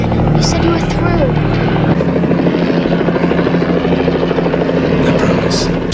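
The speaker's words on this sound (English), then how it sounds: "What's that Army helicopter doing here?" An Army helicopter flies close by, its loud, steady rotor chop running the whole time with voices and film music underneath.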